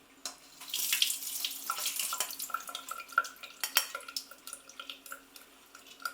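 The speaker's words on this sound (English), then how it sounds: "So I'm going to drain them using a sieve." Soaked soya chunks being drained through a sieve: running water pours and splashes, then trickles into drips and small clinks from the sieve and bowl, close and fairly quiet.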